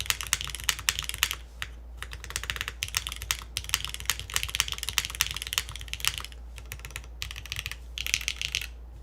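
Rapid clacky typing on a NEO98 mechanical keyboard fitted with granite switches and poron gaskets, dense bursts of keystrokes with brief pauses, close and fairly quiet.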